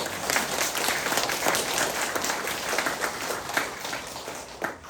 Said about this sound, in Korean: 박수 한번 쳐야 되겠죠, 여러분?